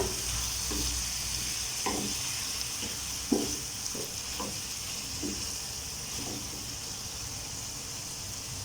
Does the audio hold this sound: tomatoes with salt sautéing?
yes